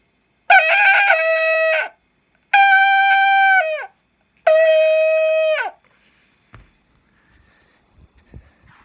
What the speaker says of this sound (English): suddenly a trumpet sounded